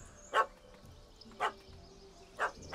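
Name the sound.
yappy little dog barking in video game The Witcher 3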